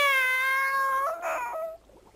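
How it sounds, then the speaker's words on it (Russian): A cat gives a single loud, close, drawn-out meow that holds a steady pitch and then bends and wavers before fading into quiet background in an old Russian fairy-tale film. "Котик ты мой, котик!"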